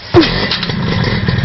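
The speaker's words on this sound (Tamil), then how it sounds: "வண்டி ஸ்டார்ட் ஆயிடுச்சு." A motorcycle engine catches with a sharp burst, then settles into a steady, close, loud running rumble; no one speaks.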